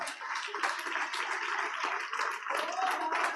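Steady applause from a church congregation, a dense even patter of clapping sustained throughout at moderate distance.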